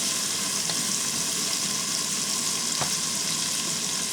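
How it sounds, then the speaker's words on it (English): Shrimp fry in a separate frying pan, a steady, dense sizzle that holds level throughout at close range, with a couple of faint clicks and no voices. "Now I'm going to take this time to cook the shrimp."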